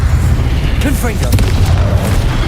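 The Confringo blasting spell explodes in the Hogwarts Legacy video game, a heavy, continuous booming rumble with a voice shouting over it partway through.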